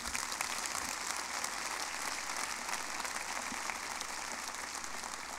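A church congregation claps during a sermon, producing a dense, even wash of applause that holds steady throughout without pause.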